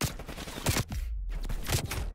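Gunfire during a Call of Duty Search and Destroy match, several loud shots and bursts spread over about two seconds with a gap between them, heard close and clear with no speech.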